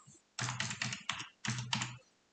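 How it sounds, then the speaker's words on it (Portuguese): Two short bursts of close, crisp keystrokes as a password is typed on a computer keyboard, clustered clicks separated by a brief pause, alone and fairly loud. "Eu vou digitar aqui uma senha qualquer."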